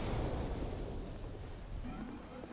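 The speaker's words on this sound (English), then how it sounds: "It just stands there menacing us and it blows up." Deep, rumbling explosion in the video game Dark Souls 2, a sustained loud blast that booms and then fades slightly, heard on its own without talk.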